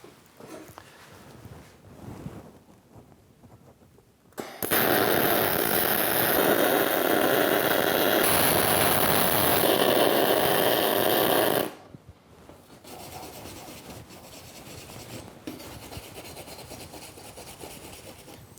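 MIG welder laying a bead on a metal joint, a loud continuous crackling hiss lasting about seven seconds, framed by quieter shop rustling before and after.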